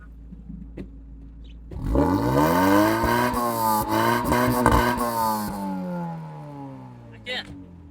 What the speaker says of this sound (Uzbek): Bitta ko'rsatib bitta gaz bosamiz.